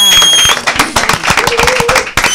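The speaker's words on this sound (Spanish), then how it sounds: "Vamos a recibirlo con un fuerte aplauso" Studio audience on a TV talk show applauding the arrival of guests, an actress-presenter and an actor-producer; loud, close, brisk clapping with sharp irregular hand claps over a short burst, a bright tone lingering at the start.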